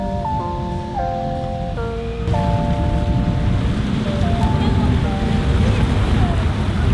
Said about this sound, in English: There are a few waves here, but this beach is really calm